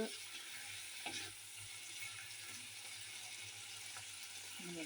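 Tomatoes soften in a hot pan with a quiet, even sizzle, a few soft scrapes and knocks of stirring scattered through, fairly faint and without any talking.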